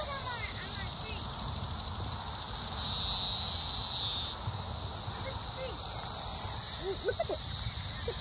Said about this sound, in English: Dog day. Dog day. Dog day cicada.